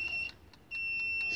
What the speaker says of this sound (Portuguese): vou usar aqui o audível do multímetro